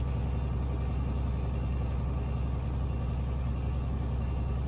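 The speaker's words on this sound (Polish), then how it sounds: "Czy Volvo ma takie kierunkowskazy?" A Volvo truck's turn signal beeps in Euro Truck Simulator 2 on a winter oversize haul, a fast, steady run of repeated chirps over a low engine hum, with no talking.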